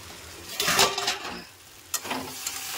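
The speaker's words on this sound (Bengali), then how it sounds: "এবার আমি ঢাকনাটাকে খুলে আমি নেড়ে দেবো" Cabbage and prawn curry stirred in a pan, a couple of scraping, rustling passes with a soft sizzle underneath, the clatter dying down briefly before a second stir and a light tap.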